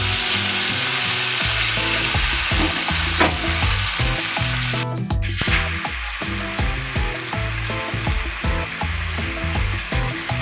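Chopped vegetables tipped into hot oil in a karahi crackle and fry loudly, with a dense continuous sizzle and repeated scraping stirs throughout and one sudden spattering burst midway.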